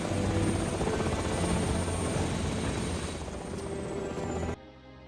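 A helicopter in a film about a conflict-zone evacuation of sick villagers, a loud, continuous rotor and engine roar held steady, then cutting abruptly to a quieter background near the end.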